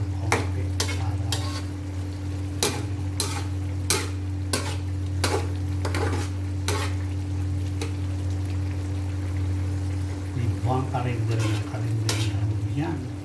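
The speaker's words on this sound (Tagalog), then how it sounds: "Yan ang ating giniling na atin lang medyo papatuyo ng konti" Ground pork fries in a pan for menudo, a steady sizzle beneath repeated sharp scrapes and clacks of a utensil stirring against the pan, with a constant low hum throughout.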